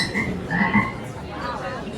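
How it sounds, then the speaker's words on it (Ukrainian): A toy frog in a Harry Potter shop gives a short croaking call, a couple of buzzy ribbit-like bursts over a murmuring indoor store background. "І жабка квакає."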